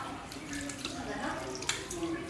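Tap water runs steadily while hands are rinsed up to the elbows during a handwashing routine, a continuous close splashing wash with a faint voice in the background.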